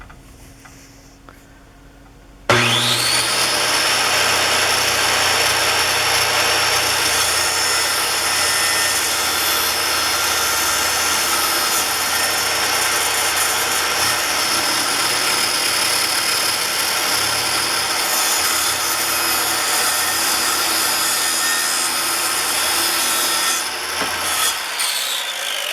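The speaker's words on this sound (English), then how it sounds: "you want to make sure that you're running the skill saw blade nice and fast so you don't get any burrs" A skill saw starts abruptly, then cuts across the bottom of an interior door with a loud, steady whine and rough rasp for about twenty seconds before winding down.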